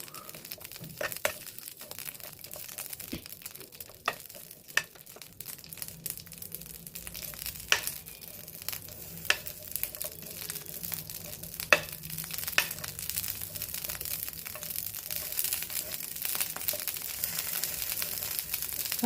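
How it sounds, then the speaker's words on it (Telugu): Green chillies fry in hot oil for an Andhra gongura chutney, a continuous close sizzle broken by sharp crackles and pops throughout. "ఇలా పచ్చిమిరపకాయలు వేయించుకోవాలండి"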